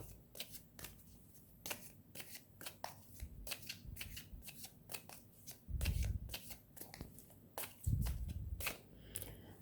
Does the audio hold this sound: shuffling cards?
yes